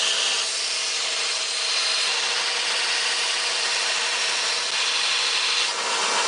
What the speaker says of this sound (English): I'll go to the grinder and trim it to the lines.